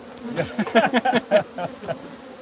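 A feral Africanized honeybee colony in Arizona buzzing loudly and close, a dense, wavering drone of many bees with pulsing swells in intensity and nothing else heard.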